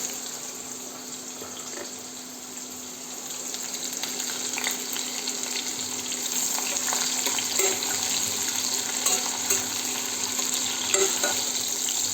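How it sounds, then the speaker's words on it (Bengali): Chopped onions dropped into hot oil and frying, a dense hiss that swells louder midway and keeps crackling with small pops and stirring clicks, close by, no one speaking. "এইবার দিয়ে দিলাম পেঁয়াজ কুচো"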